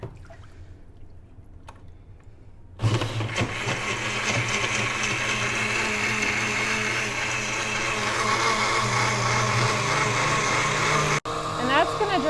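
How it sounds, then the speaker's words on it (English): After a quiet start with brief talk, a blender blending paper pulp roars on loudly and whirs steadily for several seconds, cuts out, then restarts. "Okay, blender."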